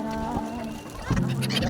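Chickens or other fowl clucking near a boat on the river at the Sangam in Prayagraj, a steady run of close calls with a louder burst near the end.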